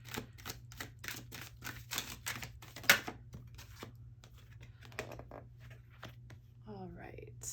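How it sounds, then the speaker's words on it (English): Tarot cards shuffled by hand close by during a monthly Aries reading, a rapid run of crisp riffling flicks in a steady rhythm over a low background hum, with soft talking at the end. "So hopefully that shuffling isn't too loud for y'all."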